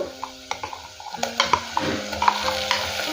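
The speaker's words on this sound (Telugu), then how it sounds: "ఇది కొంచెం పచ్చివాసన పోయేంత వరకు ఫ్రై చేసుకుందాం" Ground masala fries with browned onions in a pan. A spatula stirs and scrapes with sharp, irregular clinks over a low, soft sizzle, fairly close and with no talking.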